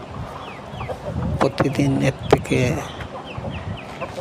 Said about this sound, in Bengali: দেখেন অনেক সুন্দর সুস্থ সবল মুরগিগুলা।